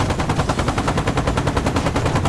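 Helicopter gun pods fire in a DCS World dogfight, a continuous rapid stream of loud, evenly spaced shots with no pauses.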